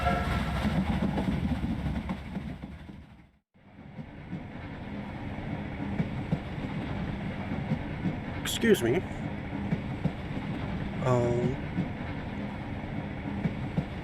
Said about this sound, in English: Oh, look at that majestic train.